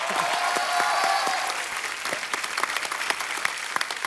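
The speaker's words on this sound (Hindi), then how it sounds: "आप सबकी जोरदार तालियों के बीच इनवाइट करना चाहूंगा।" A large studio audience at a comedy show claps loudly and continuously, a dense wash of applause that thins slightly toward the end.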